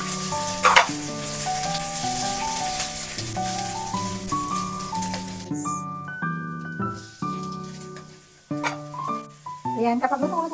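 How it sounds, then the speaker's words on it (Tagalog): Garlic sautéing in a little oil gives a constant bright sizzle, with a tonal music bed playing over it and occasional clatters of utensils. "binamasa ko lang ng konting mantika at magigisa na ako dito ng bawang"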